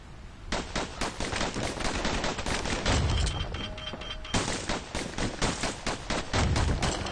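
Rapid bursts of gunfire from two slinger pistols in a video game, dense overlapping shots firing in quick succession, loud and close, with a brief lull near the middle before the rapid shooting resumes.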